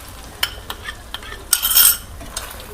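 Chilli chicken mixture in a pan gets a cornflour paste stirred through it, with scattered spoon scrapes and clinks over a soft sizzle and one louder wet, hissing burst midway.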